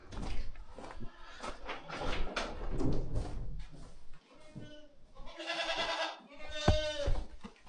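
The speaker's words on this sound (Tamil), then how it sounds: "ஆட்டை போய் பிடிச்சி ஒன்று வாழம்" A goat bleats on a goat farm in Canada. Several close, wavering bleats come near the end, after a stretch of handling noise, bumps and voices.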